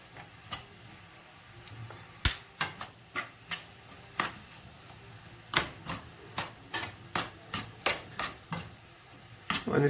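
A spoon scrapes and taps against a pan while onions and spices are stirred, a string of sharp clicks and knocks at an uneven but steady pace over a faint sizzle, with no talking.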